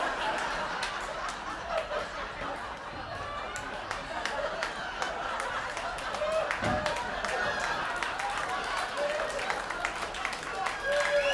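Comedy club audience claps and laughs during a half-hour stand-up special, steady scattered applause with chuckles running throughout, moderately distant crowd sound with a comedian's voice occasionally over it.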